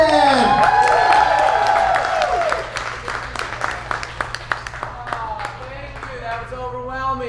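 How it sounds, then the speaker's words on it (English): Audience applause and cheering for comedian Dustin Nickerson at a stand-up comedy show, a loud dense burst at first that thins into scattered claps, with voices and whoops mixed in. "Round of applause right now for Dustin Nickerson"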